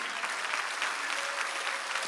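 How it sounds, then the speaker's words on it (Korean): A church congregation claps together in steady, dense applause, filling the room evenly and continuously for the whole stretch with no voices standing out. "박수 치라고"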